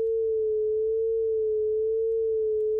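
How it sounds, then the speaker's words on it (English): A synthesized sine oscillator hums near 440 Hz, its pitch wavering slowly and evenly between about 430 and 450 Hz in a mechanical vibrato, steady, clean and alone for the whole span. "Kind of like a siren or like a singer's vibrato, a particularly mechanical vibrato."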